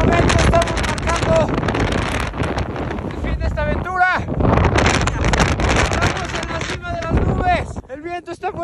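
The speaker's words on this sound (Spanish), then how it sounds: "¡El viento está fuertísimo!" Very strong wind buffets the microphone high on the slopes of Pico de Orizaba, a loud roaring rumble that surges and dips continuously, with someone shouting over it.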